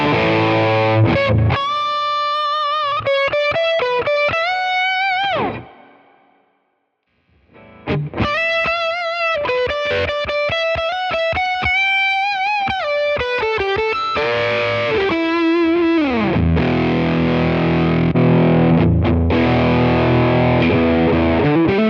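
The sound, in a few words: distorted electric guitar through Tone King preamp and Quad Cortex captures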